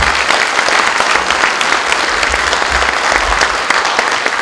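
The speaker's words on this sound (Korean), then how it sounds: "큰 박수 부탁드리겠습니다." Guests at the opening ceremony of a software policy research institute give loud, close applause, a full, continuous patter of many hands clapping with steady intensity from start to finish.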